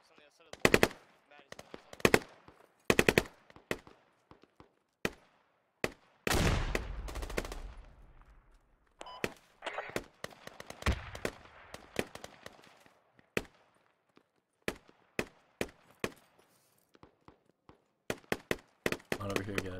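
Gunfire in the military shooter game Squad, with repeated bursts and single shots, some loud and close, others distant, spread through the clip with a longer rumbling volley midway.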